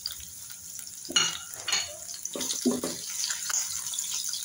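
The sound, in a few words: chopped onions frying in oil in a pan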